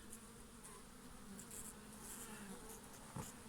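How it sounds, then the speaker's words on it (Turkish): Anatolian honey bees hum around an open hive as a dense, steady buzz, faint and continuous, with a brief closer knock near the end. "6 çıtalı Anadolu arısı. Kovanımıza geldik."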